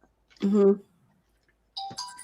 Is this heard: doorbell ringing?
yes